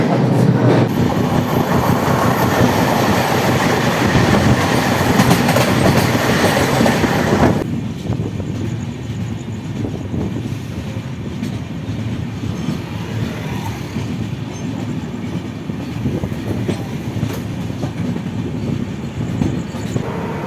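Saraighat Express passenger train on the Howrah to Guwahati line rumbling steadily over the rails, loud and close, with a dense rolling roar that drops to a quieter, continuing run partway through.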